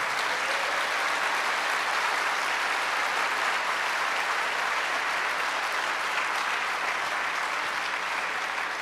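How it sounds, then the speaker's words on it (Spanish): Sustained, dense applause from an audience of inmates at a prison church service, steady and even throughout with no voices standing out. "Denle ese aplauso al Señor."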